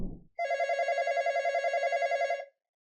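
A telephone bell rings in one continuous electronic trill lasting about two seconds, loud and close, heard alone after a brief rustle and followed by silence.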